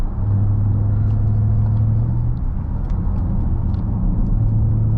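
A Jaguar F-Pace SVR V8 SUV, 2024 model, drives along twisty roads with a loud, steady engine drone and road rumble that holds throughout, no voices over it.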